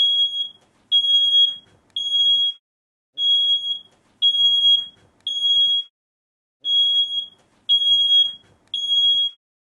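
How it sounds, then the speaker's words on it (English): A smoke alarm shrills in groups of three piercing high beeps, each burst separated by a short pause, repeating steadily and loud with nothing else audible. "all of a sudden you hear the sound of a smoke detector"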